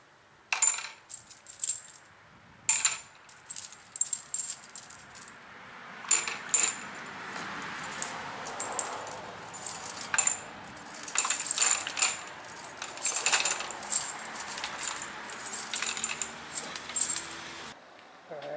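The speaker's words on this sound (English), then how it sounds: "I'm just going to have to drop these into there." Small metal brake hardware parts and bolts dropped one by one into a container of black oxide activator solution, producing sharp clinking impacts at irregular intervals across a quiet background.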